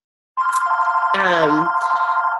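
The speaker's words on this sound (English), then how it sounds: "My phone is ringing." A telephone rings with a steady, continuous electronic trill that starts abruptly and holds, fairly loud and close, while a person speaks briefly over the ringing partway through.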